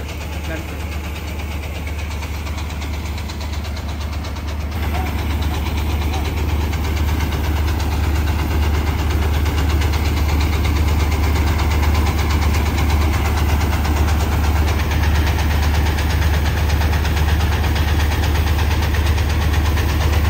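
Diesel engine of a rice threshing machine runs steadily at close range, a loud continuous low rumble with a constant hum that steps up slightly a few seconds in and holds for the rest.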